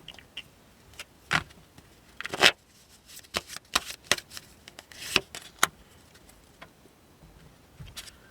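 Tarot cards being shuffled and one drawn by hand, close and quiet, with soft riffling swishes and crisp snaps of card stock in irregular bursts and no talking.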